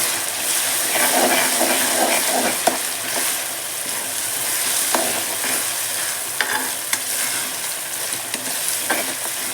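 Ginger and garlic paste frying in hot oil for a fish curry, a close, continuous loud sizzle with occasional scraping stirs through it and no talking.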